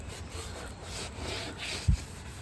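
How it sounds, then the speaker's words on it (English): A Scotch-Brite pad scrubs back and forth across painted car metal, a steady close rubbing hiss with one brief low thump partway through, no voices. "you just take this Scotch-Brite pad and go to work on it"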